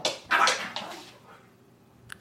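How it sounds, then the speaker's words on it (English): A dog gives a few close whimpers and short yelping barks in a quick burst, then fades to quiet, with a faint click at the end. "Dogs on the podcast."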